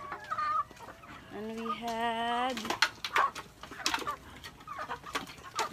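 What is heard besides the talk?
chickens clucking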